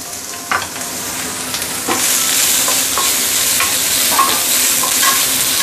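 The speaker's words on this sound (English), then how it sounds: "Certain ingredient you actually need to saute it using oil." Carrots for chow mein sautéing in very hot oil in a pot: a steady loud sizzle with scraping stir strokes and clinks throughout, close and without any talk.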